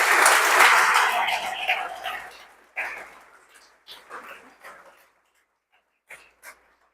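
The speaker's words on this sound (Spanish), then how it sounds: "Bríndale un fuerte aplauso al Señor." A church congregation claps for the Lord, a loud burst of applause that fades over a few seconds into scattered, quieter sounds and brief silences.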